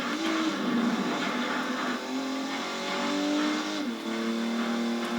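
A race car engine in the Alfa Romeo Racing Italiano video game howls through a fast lap, revving high and dropping with repeated gear shifts in a continuous, loud drone.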